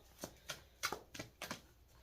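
A deck of playing cards being shuffled by hand, a series of about six crisp riffling bursts in quick succession, close and fairly quiet, with no talking.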